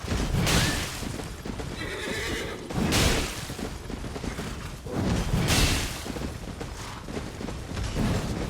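Horse in Elden Ring whinnying in several loud, drawn-out bursts spaced a couple of seconds apart, with faint game ambience and clatter between calls; no talk.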